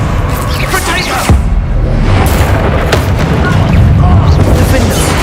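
Explosion spells like Confringo and Bombarda go off in Hogwarts Legacy: loud, heavy booms burst in repeatedly over a dense, constant din of spellcasting and combat.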